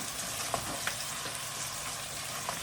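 Meat sizzling loudly in a hot pan just after being added, a bright, continuous hiss with faint crackles and pops scattered through, close and steady with no talk.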